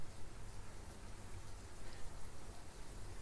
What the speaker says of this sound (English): it's raining quite torrentially